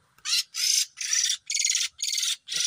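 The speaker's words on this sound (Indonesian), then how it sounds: "Mekat kecil dapatnya malah burung kacer." A white-rumped magpie-robin (kacer) gives six harsh, evenly spaced bursts of raspy calls, close and loud with short pauses between them and no voices.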